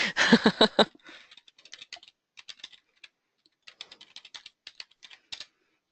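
A password is typed on a computer keyboard: a quick, dense flurry of key clicks, then lighter, irregular taps scattered over several seconds in a quiet room.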